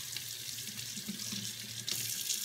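Cold tap water runs steadily from a kitchen faucet as apples are rinsed under it, a close, continuous hiss and splash with a brief louder surge near the end.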